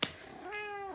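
A house cat at home gives a single short meow after a faint click, rising then falling in pitch, close and fairly quiet.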